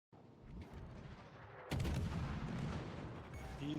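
Ship guns fire in the naval battle game World of Warships: Legends. Muffled booms sound at a distance, then a sudden louder, closer barrage rumbles on.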